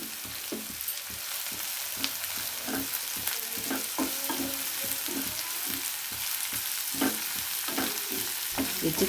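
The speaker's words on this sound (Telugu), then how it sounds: "కొత్తిమీర, పుదీనా కూడా వేసుకొని వేయించుకోవాలి" Chopped ginger, onions, coriander and mint fry in a pan for a Telugu-style dosa batter filling, with a steady close sizzle and repeated scraping stirs of a spatula. No voices.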